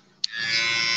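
Electric hair clippers switch on with a small click and settle into a steady, close, high-pitched buzz that holds to the end.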